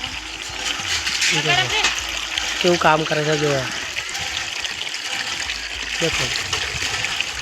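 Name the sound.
water being emptied out after washing clothes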